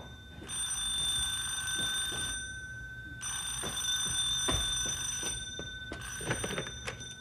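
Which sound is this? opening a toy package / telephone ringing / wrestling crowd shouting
telephone ringing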